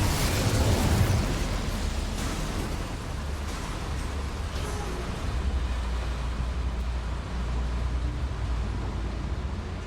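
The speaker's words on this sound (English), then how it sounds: "Incendio should be enough to light these flames." Flames roar up from the Incendio fire spell in the game Hogwarts Legacy, a loud, dense whoosh that stays strong and steady for about ten seconds.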